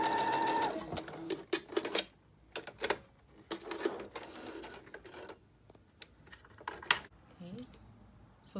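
A sewing machine runs a back stitch while sewing Halloween treat bags, in several short stop-start bursts of rapid mechanical whirring and clatter, with pauses, handling noises and a voice speaking between the runs.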